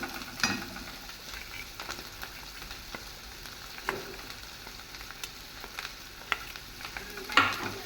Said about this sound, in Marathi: तो पण असा मस्त मिक्स करून घेऊया